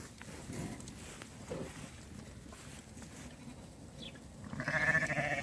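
A flock of pregnant sheep, offered for sale, bleats faintly amid a low murmur of outdoor noise. One clearer bleat rises near the end.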